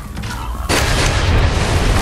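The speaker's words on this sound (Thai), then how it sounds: "ระเบิดวะเนี่ย" An explosion in the video game Wasteland 3: a sudden loud boom breaks in and leaves a dense roaring rumble that carries on, with quieter game sounds before it.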